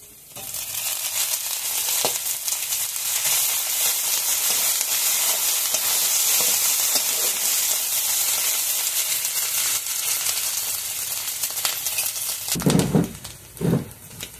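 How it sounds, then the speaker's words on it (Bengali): Onion, garlic and ginger paste frying in a pan, a continuous close sizzle with scraping stirs, then two louder clattering knocks near the end. "পেঁয়াজ রসুন আদা ভাজা হয়ে গেছে।"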